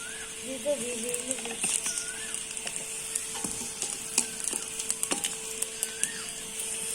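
Cumin seeds frying in hot oil for a jackfruit seed dish, a continuous close sizzle dotted with small crackles, with a faint voice in the background.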